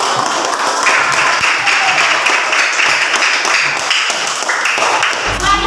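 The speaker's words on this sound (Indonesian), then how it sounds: "kita berikan tepuk tangan" Pupils in a classroom clap for a group that has just presented its discussion results, a loud, close clatter of many hands in a quick, fairly regular rhythm with a few thumps.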